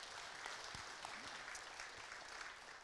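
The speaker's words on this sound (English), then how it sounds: "Yes, a big round of applause." Steady applause from a church congregation during a sermon, dense clapping holding at an even level throughout without voices rising above it.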